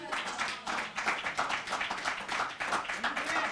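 A church congregation claps along in a dense, steady rhythm, many hands beating together at moderate volume while a voice speaks over the clapping.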